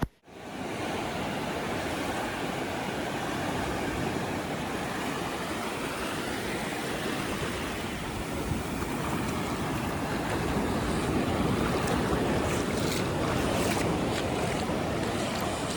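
A constant, loud wash of ocean surf on the shore at Ganpatipule fills the whole stretch, broad and steady, with wind mixed in and no one speaking.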